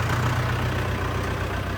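A tractor engine idles steadily, a loud, continuous low rumble that stays close and even throughout, with no talking over it.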